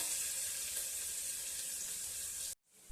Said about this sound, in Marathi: आता आपला कांदा चांगला गुलाबी रंगावर परतून घेऊया